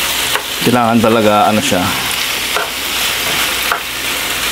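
Chicken pieces frying in a pan for adobo, a steady crackling sizzle with occasional stirring scrapes, close by; someone speaks briefly over the frying near the start.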